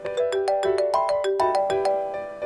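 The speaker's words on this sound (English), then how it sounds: "his phone rings and he stopped" A phone ringtone plays a bright, repeating melody of clear electronic tones in a steady rhythm. It is loud and close, with no voices.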